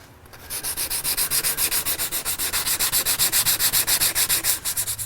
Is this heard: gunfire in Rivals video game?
no